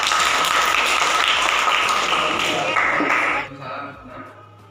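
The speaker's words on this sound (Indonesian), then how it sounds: "Tepuk tangan untuk mereka berdua" A classroom audience applauds two students called to the front, dense clapping for about three and a half seconds before it quickly dies away.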